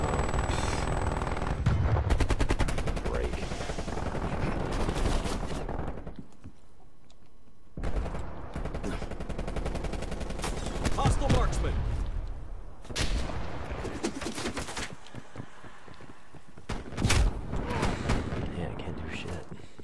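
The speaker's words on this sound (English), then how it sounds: "automatic gun, huh?" Automatic gunfire in a video game, rapid sustained bursts and heavy blasts that stop and restart in several loud volleys over about twenty seconds.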